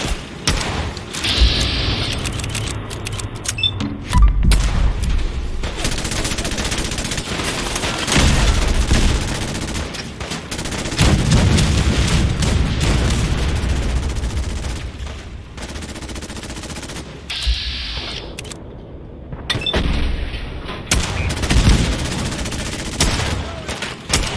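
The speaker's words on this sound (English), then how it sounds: "cannons are ready. Fire at will." Cannons and turrets firing in the Fallout 4 video game, with repeated booming shots and rapid bursts of gunfire in dense volleys that pause and resume over about twenty seconds.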